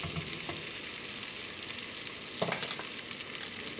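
Vegetables, peppers among them, sauté in a pan with a steady, even frying sizzle and a few faint stirring taps.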